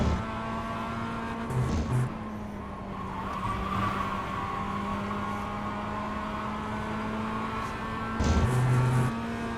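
A Mazda MX-5 race car in iRacing at VIR: a steady, humming engine drone that holds one pitch through a long run, with brief tire squeals near the start and end.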